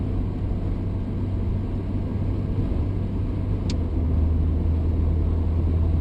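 An AMC Eagle car drives onto the highway, a steady low engine and road rumble inside the cabin, droning evenly with a slight rise partway through.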